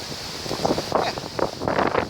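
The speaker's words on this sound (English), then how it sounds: "it's too windy, and it's clanging" Steady wind buffets the microphone in gusts, a broad rushing roar with no voices.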